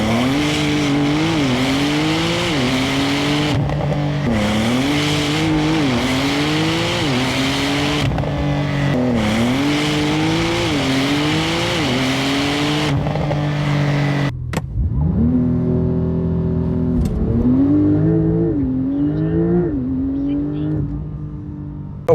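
A Porsche 911 Turbo S launches hard on an airstrip, its loud engine climbing through repeated rising gear pulls, with brief shift breaks, before the revs rise and fall near the end.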